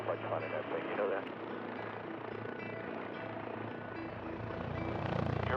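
An XV-15 tilt rotor aircraft lifts off vertically like a helicopter, its rotor and engine noise forming a loud, steady drone that swells toward the end while a narrator talks over it.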